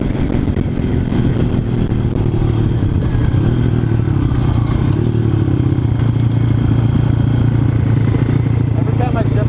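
A motorcycle with a snapped swing arm runs steadily through gear shifts, its mid-pitched engine droning loud and close with some rattling clatter, while people talk over it.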